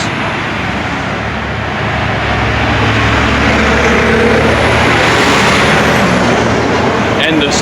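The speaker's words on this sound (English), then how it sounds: "wait for this truck to pass." A truck passes close by on a small-town street, a loud, steady broadband engine and road roar that fills the whole stretch and swells slightly in the middle, with a faint hiss near the end.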